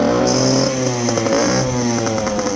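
A 1980s Suzuki TS50X two-stroke dirt bike engine runs steadily and loudly up close, its buzzing harmonic drone holding an even idle with slight rises in pitch throughout.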